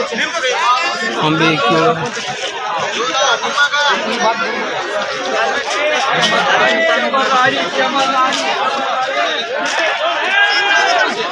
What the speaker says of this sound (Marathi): गर्दी कशी आहे आता बाजारात.